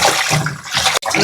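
Hilsa fish being rinsed under running water, a steady gushing splash with brief shifts in tone and a short break near the end, close and loud with no talk.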